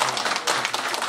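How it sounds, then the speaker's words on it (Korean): At a county town-hall talk concert in Soi-myeon, the audience gives the county governor a brief burst of steady applause, many hands clapping at once at moderate volume with no speech. "여기서 군수님이 감사해야 되는 박수 한번 쳐주세요"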